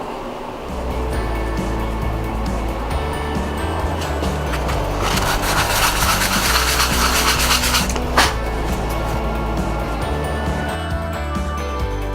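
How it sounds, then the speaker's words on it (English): A wooden child's height ruler gets a last sanding before clear coat, a steady close rasping scrape over a low workshop hum that grows more intense in the middle and then eases. "give it maybe one last sand, prepare it for the clear coat"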